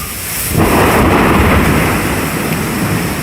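Loud thunder during a tornado thunderstorm, a heavy rolling rumble that swells in and then holds as a broad, sustained roar mixed with rain, no voices.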